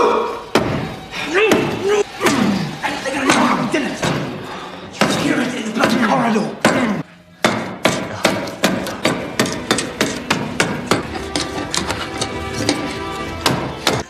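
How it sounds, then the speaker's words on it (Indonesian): A chisel being hammered into a wooden door frame during a prison escape, with a run of sharp, loud blows and thuds in an uneven rhythm, close up and spread across the whole stretch. "Leo menghancurkan kusen pintu dengan pahat"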